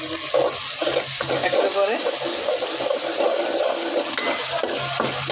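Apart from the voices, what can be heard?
pouring hot water into the chicken curry pot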